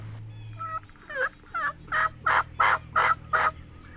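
A wild turkey gobbles in a rapid series of throaty bursts, fairly close and loud, over a steady low background hum.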